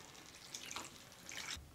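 Water from a rinsed mixer jar splashes into a pan of cauliflower gravy, a faint, brief trickle of pouring liquid over quiet kitchen background.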